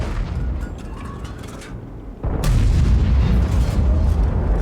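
A World of Tanks artillery shot lands as a sudden loud boom about halfway through, its rumble carrying on over the steady, busy hum of battle noise beneath.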